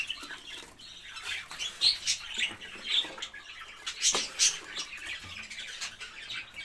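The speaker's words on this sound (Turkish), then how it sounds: "Mama yiyen yeni yavrularımız" Young pet bird chicks in a cage give a steady stream of high, thin chirps and cheeps, close and overlapping, with light rustling and pattering movement in between.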